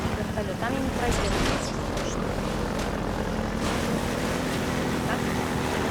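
A helicopter in Half-Life 2 roars close and loud with a constant rotor drone and engine rumble throughout, while someone talks over it.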